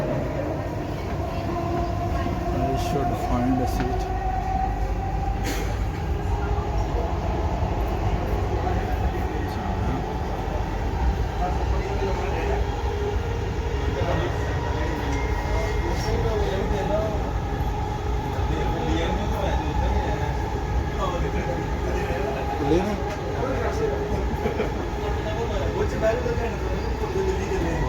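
The interior of a Dubai Metro train carries a continuous rumble and whine of the moving carriage, with a steady hum and occasional rattles. Someone speaks briefly over the running train.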